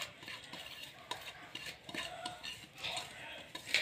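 Fenugreek leaves and a green chili and onion masala go into a pan, with soft clinking and stirring of a utensil over a faint sizzle, all fairly quiet.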